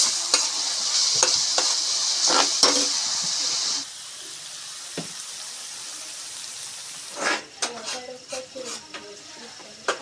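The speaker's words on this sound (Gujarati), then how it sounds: "ડુંગળી આપણે નાખી દીધી છે જેવી તેવી તેલમાં પકાવવાની છે બહુ લાલ નથી કરવાની" Onion frying in oil in a pan for dhaba-style paneer bhurji: loud, steady hissing sizzle for a few seconds, then quieter frying with a burst of clattering stirring near the end.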